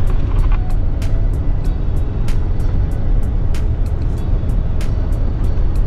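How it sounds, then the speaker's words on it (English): A heavy truck engine labours loudly and steadily after a splitter shift on a Road Ranger gearbox, a dense low drone with faint rhythmic ticking repeating throughout. "So with our splitter, truck start to labour a little bit"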